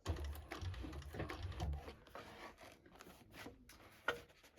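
A sewing machine runs in short bursts as it stitches a Martie tote bag, a quick mechanical whirr that starts and stops, up close and fairly quiet, with fabric rustling between runs.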